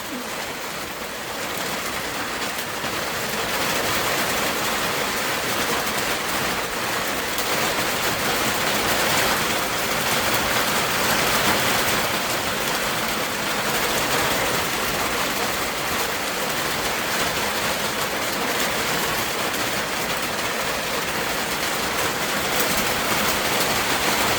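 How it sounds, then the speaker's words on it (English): Heavy rain pours down in a steady, dense hiss that fills the whole stretch without pause, loud and close, with no voices. "it started pouring rain"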